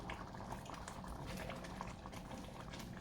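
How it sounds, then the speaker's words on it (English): Shrimp and crab etouffee simmering in a pot, a steady close bubbling and gentle popping that holds continuously throughout without any talk. "our etouffee has come to a simmer"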